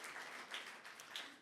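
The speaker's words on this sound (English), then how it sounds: "let's give a round of applause to the AJC staff" An audience at a conversation event applauds staff, with soft, steady clapping that sounds distant and faint throughout.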